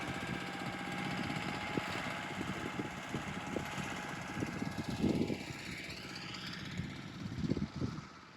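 A Chinese ZIRKA walk-behind tiller's small engine runs steadily while milling a narrow strip between pumpkin rows, a continuous close drone with brief thumps of the tines biting soil.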